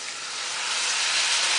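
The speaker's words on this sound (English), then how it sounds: "You hear the nice sizzle. That tells you that it was nice and hot." Catfish curry paste frying in a hot pot as water is poured in, a loud steady broadband sizzle and hiss that swells slightly over its length, heard alone.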